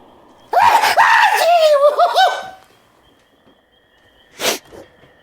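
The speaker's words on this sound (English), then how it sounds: "That's Deadite sneeze I've been working on." A stylized Deadite-style sneeze from Evil Dead, voiced as a drawn-out, wavering vocal wail that breaks into a loud burst near, followed by silence and a short sharp second burst.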